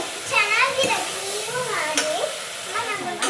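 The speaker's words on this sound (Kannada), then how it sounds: "ವೆಜಿಟೇಬಲ್ ಎಲ್ಲ ಚೆನ್ನಾಗಿ ಫ್ರೈ ಆಗ್ತಿದೆ" Vegetables for a vegetable kurma fry in a pan, a steady sizzle under stirring, while a child and an adult talk over it throughout.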